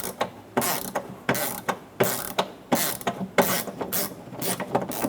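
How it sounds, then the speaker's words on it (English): A hand ratchet turning a T30 bit to back out the reverse-thread impact airbag sensor screw on a 2014-2018 Chevrolet Silverado 1500, with close, crisp clicking strokes repeating in quick, uneven bursts. "Using a T30 bit, we're going to remove the screw for the impact sensor."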